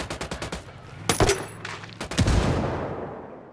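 Automatic gunfire in the video game Ghost Recon Wildlands: a rapid string of shots followed by two louder, heavier bursts, each rolling off into a long, fading echo, with no speech over it.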